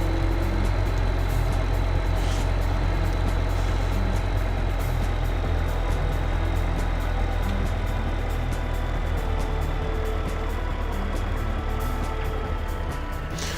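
A tractor fitted with an oversized implement runs outdoors, its engine giving a steady, loud, unbroken low drone throughout.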